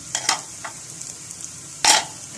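Finely minced fresh garlic fries with pasta in a single pot, giving a soft, steady sizzle broken by a few sharp scraping strokes as a spoon stirs it.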